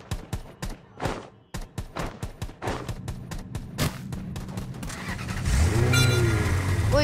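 In the shooter game Rules of Survival, a car engine starts and revs after a run of sharp gunshot bursts, then drones on loudly over the final seconds.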